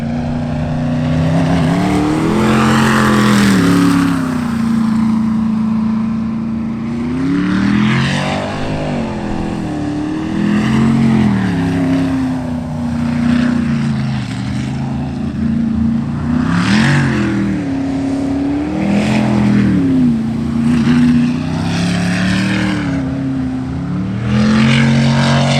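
A methanol-fuelled sprint race boat, its engine burning grape-scented methanol, roars loudly and continuously through a clean run on a racing course, rising and falling in pitch as it revs and accelerates through turns.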